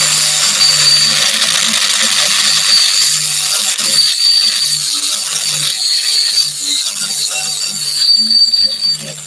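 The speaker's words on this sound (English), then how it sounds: "So we've got a little Proxen grinder, small angle grinder." A small Proxxon angle grinder fitted with a sanding disc works over a garden tool blade, giving a steady high whine with a continuous grinding hiss throughout, loud and close with no talk.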